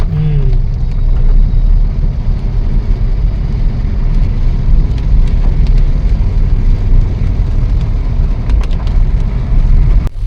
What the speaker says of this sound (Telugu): ఇప్పుడు చూడండి మళ్ళీ సడన్గా పెద్దగా పడుతుంది వాన